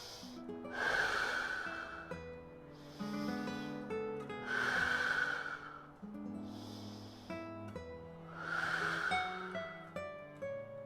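Three slow, deep breaths during a standing exercise warm-up, each a long audible inhale and exhale with a soft nasal rush, evenly spaced, with faint background music.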